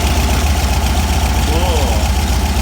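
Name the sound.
VW 1776 engine idling on Empi 40mm dual carbs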